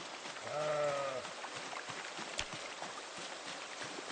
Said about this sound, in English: Now that was the sound of a stressed sheep